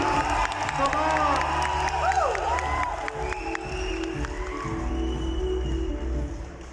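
Crowd at a corporate awards celebration clapping and cheering, sustained applause with occasional whoops, while an amplified voice talks over it.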